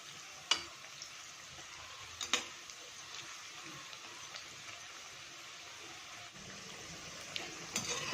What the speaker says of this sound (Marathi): आता आपले हे जे भजी आहेत ते आपण आलटून पलटून दोन्ही साइडने छान फ्राय करून घ्यायचे।